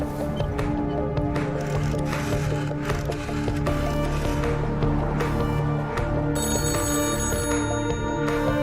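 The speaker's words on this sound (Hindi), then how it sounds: "अकबर के कैबिन का फोन लगातार बज रहा" An office telephone rings on and on in a cabin, its bright repeating tones running the whole time over a busy bed of film music and background sound.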